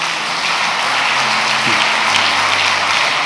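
Church congregation applauding at a Sunday morning service, a steady broadband wash of clapping that fills the whole clip at an even, fairly loud level with a faint low hum beneath.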